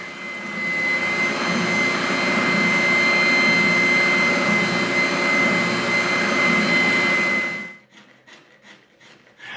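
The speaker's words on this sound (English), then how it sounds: "Here I'm using my oscillating spindle sander to remove some of the tool marks from the sides of the headstock." An oscillating spindle sander runs steadily with a loud, continuous whirring hum and abrasive rub against a wooden guitar headstock, then cuts out near the end, leaving faint scattered taps.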